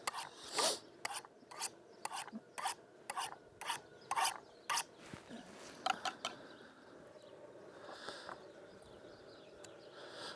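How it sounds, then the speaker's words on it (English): A knife is drawn across an old Lansky sharpener in a run of about a dozen crisp, evenly spaced rasping strokes, close up, then fading into quieter scattered scrapes. "I need to hit my knife on my old Lansky sharpener here for a minute."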